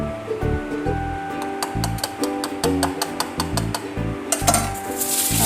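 Ice cream mixture being stirred together with custard powder and cream, a utensil clinking and scraping against the container in a steady rhythm of close, fairly loud strokes.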